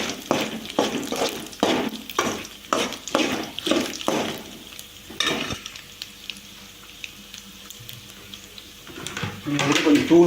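Roasted peanuts and lentils are stirred in a pan with a spoon, giving a series of rhythmic rattling scrapes for about five seconds, then a quieter stretch and a voice speaking at the end.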